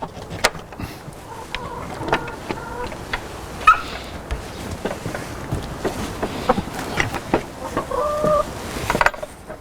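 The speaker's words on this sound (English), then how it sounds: "the hens are behind me and we shall hear their contented noises" Hens in a meadow cluck softly and steadily, with short repeated clucks and occasional louder calls, close by and without talk.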